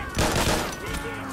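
Gunfire in a zombie co-op shooter game, a quick loud burst of rapid shots that fades into lighter trailing fire over about a second, close and dense.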